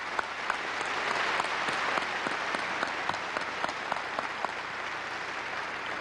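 Audience applause welcoming special guests at the 2002 University of Alaska Fairbanks commencement: sustained, dense clapping from a large crowd, with sharper individual claps standing out as it slowly tapers.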